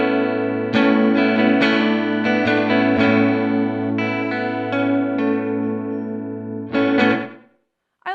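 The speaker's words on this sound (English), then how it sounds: "if we speed up the delay time even more" Guitar run through a Red Panda Raster 2 delay pedal with the delay time sped up, sustained chords and plucked notes smeared by fast, shimmering repeats, loud and steady before a brief cutoff near the end.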